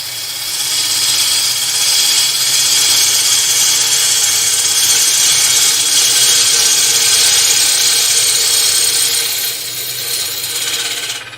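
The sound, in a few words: wood lathe turning, gouge taking cuts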